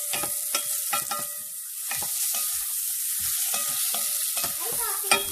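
Oranges heating up in a pan with rice, a steady close sizzle broken by repeated scraping and clicking stirs of a utensil against the pan.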